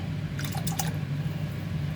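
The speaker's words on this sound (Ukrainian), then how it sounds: "Додаємо дві шклянки молока." Milk poured into a pot of simmering rice, a brief burst of liquid splashing and dripping over a low steady hum, close and moderately quiet.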